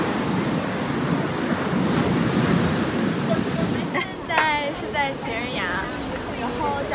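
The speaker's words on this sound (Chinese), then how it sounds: "印度洋不太友好的海浪。 今天早上拍打着我们， 就把我们拍打在反反复复拍打在沙滩上。" Rough Indian Ocean surf crashes steadily onto a sandy beach, a continuous loud roar with wind buffeting the microphone, while people talk over the last few seconds.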